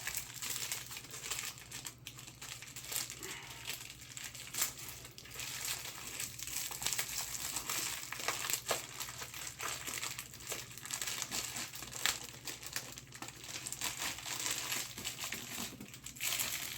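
Plastic packaging being cut open and handled while setting up an orchard, with a continuous soft crinkling and rustling at close range, faint and steady throughout, no speech.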